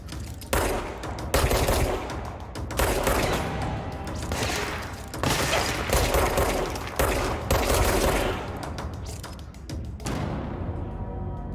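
Rapid, loud gunfire in a supernatural shooter, repeated bursts of automatic shots that keep going in clusters and then cut off, leaving a faint tail.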